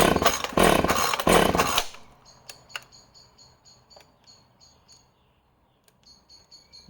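A chainsaw, one of several Stihl, Husqvarna and Echo saws, runs loud and close for about two seconds and then cuts out. Faint ticks and a high insect-like chirping follow in near silence.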